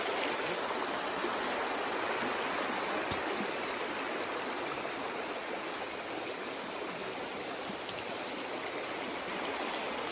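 A mountain river rushes continuously, a loud, even broadband roar of flowing water close by, with no voices over it.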